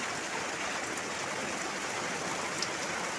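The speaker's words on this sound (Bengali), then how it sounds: "ওই যে পটপট বৃষ্টি পড়ছে ঘরের মধ্যে" Steady heavy rain patters without pause indoors, leaking into a house, a dense, even hiss of drops close by with no voices.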